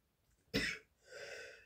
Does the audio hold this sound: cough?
yes